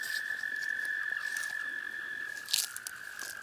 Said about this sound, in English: The wood toads come out and they mate in the pond every year.